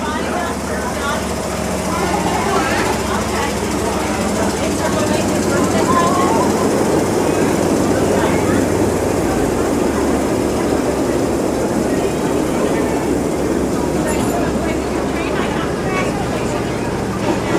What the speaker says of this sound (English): And they're these miniature trains,